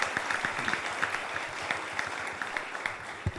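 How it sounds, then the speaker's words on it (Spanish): An audience at a medical congress applauding a doctor, a steady patter of many hands clapping at moderate volume, with a sharp louder sound at the very end. "así que un aplauso para Emanuel."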